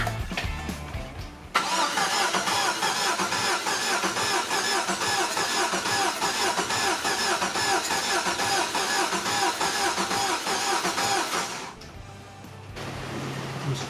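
An LS-swapped Datsun 280Z cranks and fires up, then runs at a loud, steady idle for about ten seconds before shutting off abruptly, with a quieter rumble near the end.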